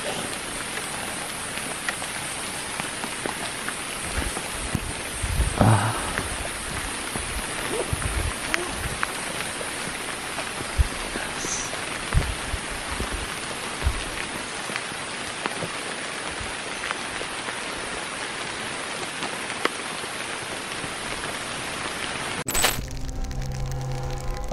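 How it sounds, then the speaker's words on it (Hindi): Light rain falls steadily during a road journey in Java, a continuous hiss with scattered drops and small cracks throughout, and a brief mechanical change near the end. "बारिश हल्की हल्की से हो रही है"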